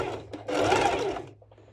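A sewing machine makes one short straight-stitch run along the edge of a ruffled fabric scrunchie, starting after a soft lead-in and stopping with a little handling noise.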